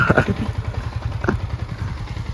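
A big motorcycle engine putters nearby with a steady throbbing idle and short bursts of clatter, loud and close throughout.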